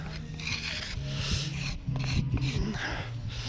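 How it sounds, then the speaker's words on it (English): A stiff brush scrubs over fresh hydraulic lime mortar pointing, a steady rough rasping and rubbing with uneven strokes, close and moderately loud, with no talk over it. "I'm just brushing it for the camera really."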